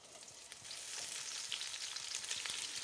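Onions hit hot sunflower oil and fry with a soft, even hiss and crackle that swells slightly and then holds steady, faint and close, with no voices.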